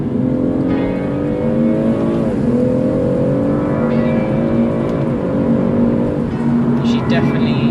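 A BMW M140i pulls hard in second gear after a downshift on an open national-speed-limit road, its engine note climbing steadily with a brief dip mid-run before rising again, loud from inside the cabin.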